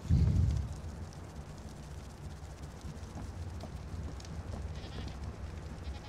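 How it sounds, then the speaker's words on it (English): A small goat-like creature bleating in ARK: Aberration, soft and close over a low droning ambient bed, after a brief loud thump at the start. "Oh, it's a little goat."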